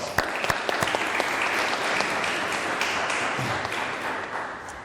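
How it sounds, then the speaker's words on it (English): A room at a governor's announcement about Arkansas Game and Fish commissioners breaks into a round of applause, a few sharp early claps swelling into steady clapping that slowly fades. "Let's give them a round of applause."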